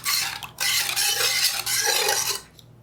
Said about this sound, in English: We would stir these ingredients in the pot